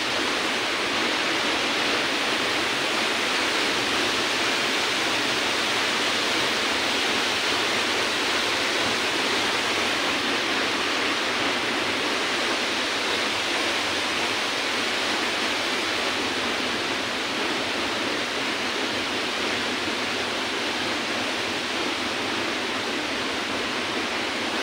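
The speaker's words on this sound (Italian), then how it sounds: "con la cascata del Picchio" Steady, loud rush of the Picchio waterfall at Nepi, a broad continuous roar of falling water filling the whole stretch without a break, with no voices over it.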